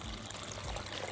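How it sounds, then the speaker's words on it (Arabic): Water poured into a cooking pot of chickpeas, a brief continuous close splashing pour with no talk. "نحط ميه"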